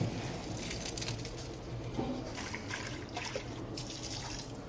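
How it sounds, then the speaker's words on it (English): Boiled rice drained through a strainer, water pouring and splashing steadily close by, a continuous rushing wash with no talk. "Now we're going to drain this."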